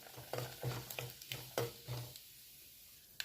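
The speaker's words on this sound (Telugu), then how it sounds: "ఇప్పుడు అందులోని 2 ఎండుమిరపకాయలు, కొంచెం మెంతులు, వాము, జీలకర్ర ఇవి వేసుకొని వేయించుకోవాలి." Dry red chilies, fenugreek seeds, ajwain and cumin sizzle in hot oil while a spoon stirs them in a pan with a regular rhythm of soft scraping strokes, then quiet fizzing and one final clink.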